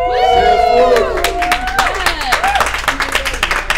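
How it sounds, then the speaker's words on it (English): A crowd claps and cheers for a company sales team at an office gathering, starting with loud whoops and shouts over the applause, then continuing as dense, steady clapping close by. "Have a round of applause for our entire Salesforce team."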